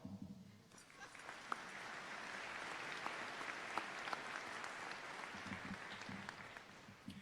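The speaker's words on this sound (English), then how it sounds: "That deserves a round of applause." Graduating students and families at a Francis Scott Key High School graduation give teachers a round of applause, broad steady clapping from a large crowd that swells in quickly and holds, heard from a distance.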